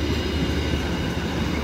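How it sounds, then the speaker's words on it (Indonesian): A local economy-class Bandung Raya commuter train passes through Cimahi station with a loud, steady rumble and rail clatter, close by and with no talk. "Satu momen kereta lokal Bandung Raya Ekonomi lewat di stasiun Cimahi."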